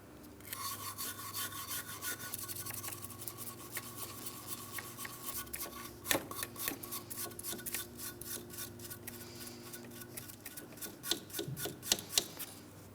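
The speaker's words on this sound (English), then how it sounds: "I'm going to use a wire brush." A wire brush scrubs the ignition control module mounting area on a 2004-2008 Pontiac Grand Prix 3.8L V6, giving a close, steady scratchy rasp with quicker hard strokes toward the end and no talk.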